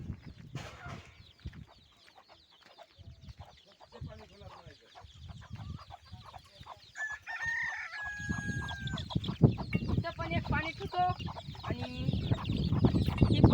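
Backyard chickens at morning watering time cluck steadily while a rooster crows, the calls growing louder and busier toward the end.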